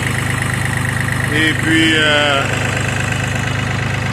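The engine of a wood splitter idles while warming up, a steady, close, droning hum with a mechanical pulse. Someone speaks briefly over it.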